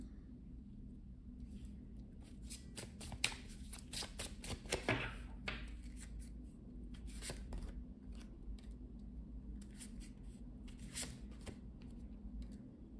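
Tarot cards being shuffled and drawn from a deck, heard as faint, close papery riffles and quick flicks in short bursts over a low steady background hum.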